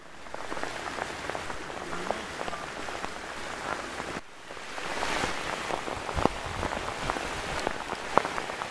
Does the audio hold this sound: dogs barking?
no